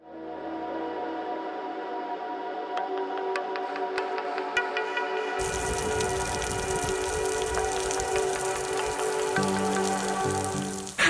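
Heavy rain pouring down, a dense steady patter that grows louder and fuller partway through, with scattered sharper drips early on.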